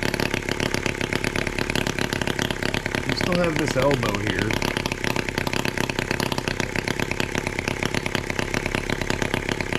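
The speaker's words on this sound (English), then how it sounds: "if you guys were wondering about valve train noise" A steady, loud hot bulb horizontal mill engine idles with rhythmic mechanical valve train clatter throughout, while someone talks briefly over it near the middle.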